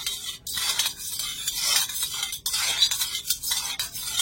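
Warm water with salt and white oil being stirred in a bowl, a brisk rhythmic swishing and scraping of a spoon, loud and close, with brief pauses between strokes.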